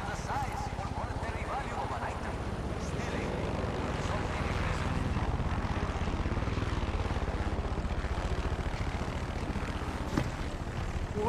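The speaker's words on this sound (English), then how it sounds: "There's a helicopter right there." Helicopter circling nearby in the video game Far Cry 6, a steady loud rotor and engine drone throughout, with voices talking over it.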